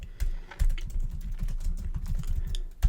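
Rapid, steady keystrokes on a computer keyboard while entering text in WordPress, close and clear, with no talking.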